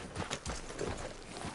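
Horse hooves walking in Red Dead Redemption 2, a soft, steady clip-clop of hoofbeats at a relaxed pace over a brief stretch, fairly close and moderately quiet with no speech over it.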